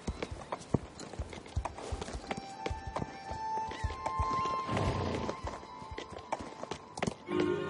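Horse hooves clip-clop in the video game Star Stable Online, a quick, irregular run of sharp hoof taps with a whinny in the middle, over soft game ambience.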